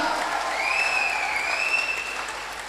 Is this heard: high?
no